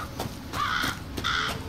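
Crows cawing in the survival horror game Resident Evil 7, two harsh close caws separated by a short pause over a quiet background.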